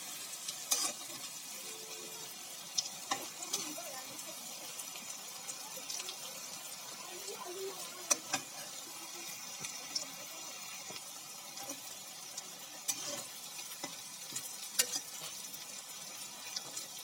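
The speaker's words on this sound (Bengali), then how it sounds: "এভাবে করে পরেরগুলো ভেজে নেব।" Potato balls deep-fry in hot oil with a steady, moderate sizzle and bubbling, broken by occasional light clicks and knocks of a utensil, with no talking.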